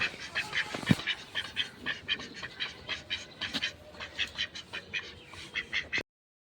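Ducks in a backyard animal setup quack repeatedly in quick, uneven bursts, close and fairly loud, with a brief low thump near the start and the calls stopping abruptly at the end.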